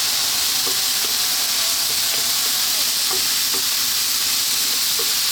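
Vegetables seasoned with dried oregano, salt and pepper are stirred continuously in a hot frying pan, giving a steady, close sizzle and hiss with soft scraping strokes of the spoon at irregular intervals.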